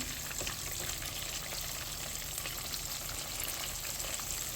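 Catfish fillets fry in hot oil, giving a loud, close, continuous sizzle with crackling pops throughout, with no one speaking.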